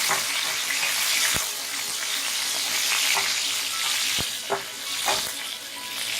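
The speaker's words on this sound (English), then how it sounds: "So we have taken around 4 whole red chilies. Now add curry leaves. Stir it well." Four whole red chilies and curry leaves sizzle in oil in a pan for curd upma, a constant close crackling fry broken by a few sharp spoon knocks as they are stirred.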